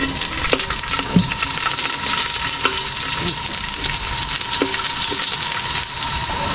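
Garlic cloves sizzle in a hot pan as the base for coconut-milk vegetables with string beans, eggplant and squash. A steady, close crackling hiss runs throughout, with a few soft clinks of stirring.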